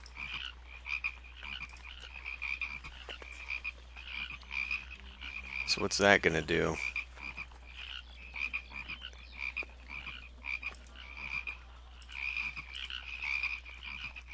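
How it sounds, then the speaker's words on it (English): Croaking frogs from the Plague of Frogs in the video game Pharaoh: Cleopatra make a dense, continuous chorus of rasping calls, with someone speaking briefly partway through. "Plague of Frogs."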